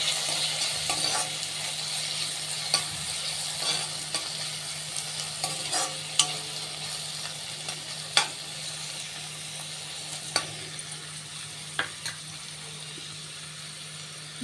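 Chopped onions and one small diced tomato frying in a pan for a moong dal and ridge gourd curry, a soft steady sizzle broken by scattered scraping knocks of a spoon stirring.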